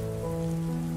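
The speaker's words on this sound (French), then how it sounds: "les sons de la pluie deviennent plus enveloppants, plus présents" Steady rain falls on a surface in a dense, even wash of drops with no break, soft and constant at a moderate distance, with no voices.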